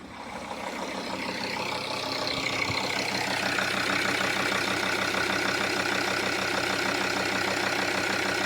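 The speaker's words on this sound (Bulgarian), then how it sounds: "Лично според мен доста гладко работи мотора." Mercedes W211 E270 CDI, a 2.7-litre diesel with 5G-Tronic automatic, idling steadily and smoothly at close range, its even low diesel rhythm running continuously with no talk over it.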